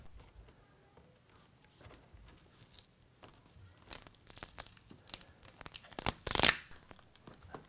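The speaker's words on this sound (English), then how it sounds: "As you can see, I'm getting the plastic off the tape. Let's see if I can get this tape started." Tape being peeled off a window frame after removing plastic insulation film, with intermittent ripping and crinkling that builds to a loud, sharp tear near the end.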